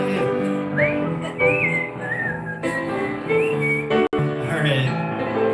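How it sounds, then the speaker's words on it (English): A person whistles a cheerful melody with sliding, wavering notes over a backing of sustained music, steady and close throughout with one brief dropout near the end. "if you got the whistle"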